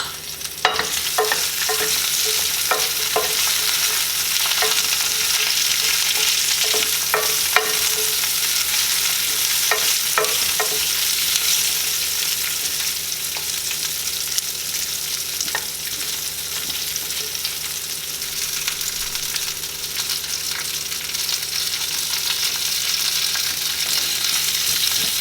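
Onions seasoned with salt and pepper frying loudly in a pan, a continuous close sizzle with intermittent stirring scrapes and utensil taps throughout, no voices.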